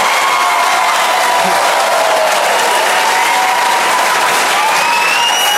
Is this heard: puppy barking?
no